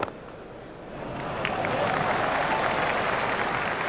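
Crowd in EA Sports Cricket 2002 breaking into applause at a World Cup match between India and Kenya, a dense wash of clapping and cheering that swells after a second and stays steady.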